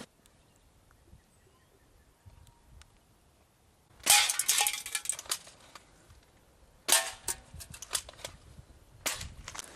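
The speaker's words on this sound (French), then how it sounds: "Il sort son arme. Se prépare à viser." Sharp cracking shots ring out one after another in a comic biathlon parody, three loud distinct reports spaced a few seconds apart with echoing tails, over quiet background and no speech.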